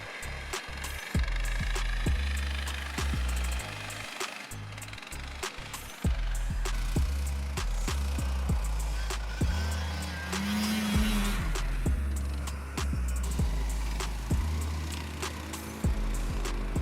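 Several motorsleds and snowmobiles, including an Onega, Yermak, Boss S Fox Motordog and Irbis snowmobile, climb a hill through fresh snow, their engines droning loudly and continuously with repeated revving surges and gear changes, close by.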